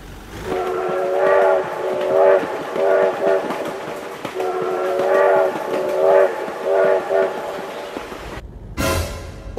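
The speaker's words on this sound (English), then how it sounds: "Oh my God, train!" A video game train rolls past with repeated long horn blasts sounding in several bursts over a rumbling, clattering passage, loud and close, ending in an abrupt cut to a different noise.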